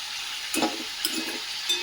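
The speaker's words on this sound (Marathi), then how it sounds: "आता हे मिक्स करून घेऊयात व्यवस्थित" Sweet potato slices being stirred in hot ghee for a sweet Mahashivratri dish: a brief close scrape and toss over a soft, steady frying sizzle, with no voices.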